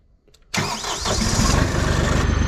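An engine cranks briefly and catches, then settles into a loud, steady running rumble close by; it needs its warm-up light before it will crank.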